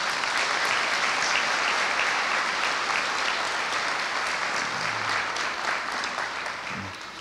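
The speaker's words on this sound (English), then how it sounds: "I think they deserve a round of applause before we even begin." A seated audience claps steadily for a group of young children at a school gathering, a dense and even wash of applause that continues throughout and fades slightly at the end.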